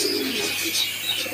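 Pigeons in a pigeon loft give a brief low coo beneath a bright, hissy background, heard for only a moment at moderate level.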